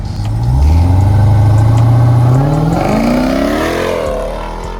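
A muscle car engine revs hard and climbs steadily in pitch as it launches and accelerates out of a Cars and Coffee meet, loud and close, then eases off toward the end.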